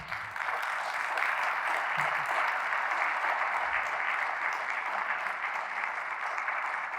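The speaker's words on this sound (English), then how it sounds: "please a round of applause for our panel" Audience applause for a panel at a King County public safety meeting in Burien, an even, steady wash of clapping from a room of people lasting several seconds.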